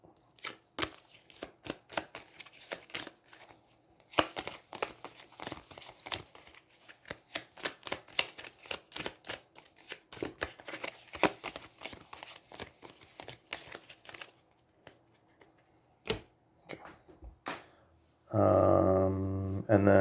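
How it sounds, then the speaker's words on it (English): Cards from an Aeons End 2nd Edition deck are shuffled at a table, a long run of soft, quick riffling and flicking clicks in bursts, close and fairly quiet, ending in a louder burst of broadband noise. "And then shuffle her deck"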